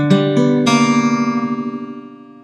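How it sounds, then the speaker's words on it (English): An electric guitar chord is picked one string at a time across the second to fifth strings, with an open string ringing dissonantly, as in a song intro. Three quick note onsets are followed by a sustained, slowly pulsing decay, heard alone. "you're going to arpeggio across the 2nd, 3rd, 4th, and 5th strings like this."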